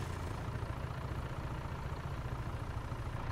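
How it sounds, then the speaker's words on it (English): Engine of a farm machine in Farming Simulator 22 running after being started, a steady low rumbling idle heard alone and fairly loud throughout. "So start the engine."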